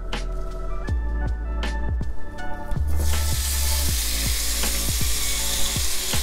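Beef pieces fry in a pan, a bright hissing sizzle that swells up partway through and holds steady, mixed with tonal background sounds and occasional soft pops.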